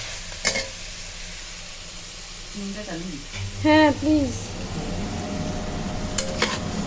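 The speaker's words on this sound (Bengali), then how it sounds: "এই অবস্থায় এই হালকা হালকা ভাজা ভাজা হচ্ছে মাংসটা" Mutton frying dry with spices in a pan, with steady close sizzling, a few scrapes of stirring, and a short spoken phrase partway through.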